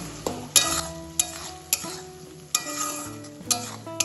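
Spice paste frying in hot oil, a steady sizzle broken by repeated sharp scrapes and knocks of a spoon stirring against the pan, close and fairly loud with no talk.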